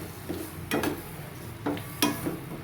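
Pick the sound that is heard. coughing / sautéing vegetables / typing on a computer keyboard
sautéing vegetables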